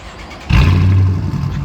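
A 2014 Dodge Charger R/T with a new straight-pipe exhaust fires up close by, a sudden deep rumble rising out of wind noise and holding steady for about a second before easing slightly.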